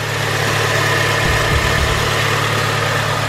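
A 2004–2008 Acura TSX engine idles steadily right after a power steering pump replacement, a smooth low hum with no whine, close by and continuous with a brief small bump midway.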